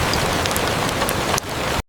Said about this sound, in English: Rain grows louder